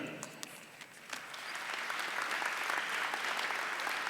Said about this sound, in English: Let's applaud Sonia's inspiring journey